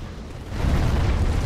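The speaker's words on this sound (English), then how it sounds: "Who the hell's shooting at us?" A deep rumbling blast in the video game Dark Souls III, Undead Settlement area, swelling from a low roar into a sustained heavy boom, loud and close.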